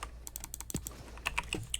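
Rapid computer key presses and mouse clicks while playing the game Mutant Ops: a quick run of light clacks, then a few sharper paired clicks, close and fairly quiet with no talking.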